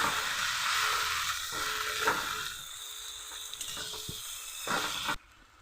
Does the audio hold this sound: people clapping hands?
no